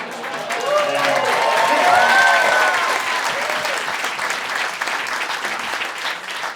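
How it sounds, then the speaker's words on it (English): A comedy club audience in Philly bursts into loud, sustained applause that peaks early and then holds steady, with a voice speaking over the clapping at the start. "You shouldn't have clapped for that."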